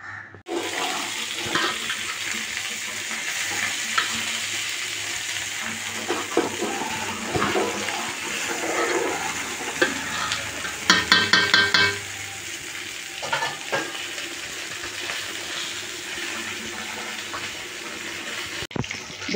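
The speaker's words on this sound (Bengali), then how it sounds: "এবার খিচুড়িটা ফুটুক।" Khichuri bubbles and is stirred in a pot, giving a continuous sizzling, watery hiss with a brief burst of clinking and scraping midway, close and fairly loud, with no talking.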